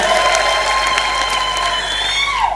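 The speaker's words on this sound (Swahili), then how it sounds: "Pigeni makofi jameni." Audience applause at a political address on women's election results for the UDA party in Kenya: a dense, loud wash of clapping with some cheering, steady for the whole stretch.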